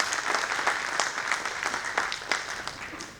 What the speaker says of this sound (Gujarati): વન્સ અગેન આપણે સંસ્થાને તાળીઓથી વધાવી દઈએ.